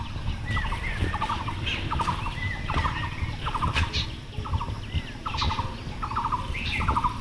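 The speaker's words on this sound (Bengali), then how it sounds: "পাখির ডাকগুলো সবচেয়ে বেশি ভালো লাগতেছে।" Birds call from a rooftop in repeated bursts of quick trilling notes, with sharper chirps scattered between them over a steady low background rumble; no one speaks.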